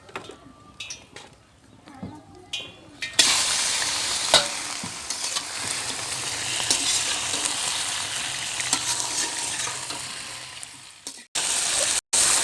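Chicken karahi frying lightly in a wok with tomatoes and yogurt, a steady close sizzle with stirring scrapes that starts after a few quiet seconds of clatter and holds loud until a brief break near the end.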